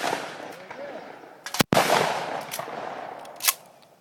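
A shotgun loaded with light target loads fires outdoors, one sharp loud blast standing out from background noise and voices, followed by a fainter second report a moment later.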